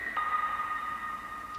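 Processed plug synth preset, brightened with OTT compression and with its high end cut, holds a smooth sustained bell-like chord that shifts pitch once early on, steady and alone with no talking.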